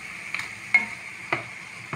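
Kefta meatballs sizzling in a pan over a steady frying hiss, with a few sharp scraping knocks of a utensil against the pan, close and with no talk.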